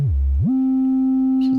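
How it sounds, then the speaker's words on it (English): A pure sine tone from the Instruo Cs-L oscillator module sweeps low, dips, then glides up and holds a steady, loud, clean pitch, with a faint scrape near the end. "So the sine wave output,"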